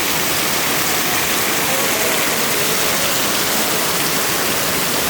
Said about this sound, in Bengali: প্রচুর বৃষ্টি হচ্ছে আমাদের এখানে, এমন বৃষ্টি যে কি বলবো